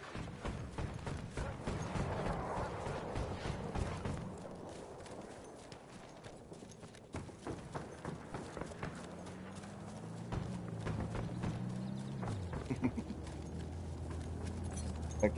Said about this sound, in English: Just a man on a horse